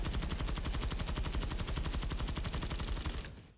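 A gun from the Force of Law Warbond in Helldivers 2 fires a fast automatic burst, a loud, evenly spaced stream of shots lasting about three seconds that cuts off sharply with a short tail.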